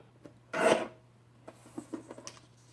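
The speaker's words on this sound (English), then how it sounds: "We'll trim this horizontally at 11." Paper strip for scrapbooking trimmed on a cutter, one short close rasping slide followed by faint light tapping and handling noises.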